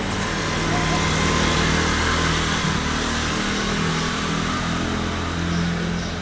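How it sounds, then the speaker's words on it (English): Road traffic goes by as a continuous wash of engine rumble and tyre noise, fairly loud and steady throughout with no clear gaps between vehicles. "and just let this traffic go by."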